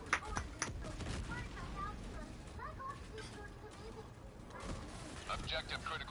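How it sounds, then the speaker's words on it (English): Bursts of gunfire and explosions from a Stingray strafing run in the video game Helldivers 2, with sharp repeated impacts early and late over a busy, fairly quiet background. "the Stingray decides to actually do a strafing run"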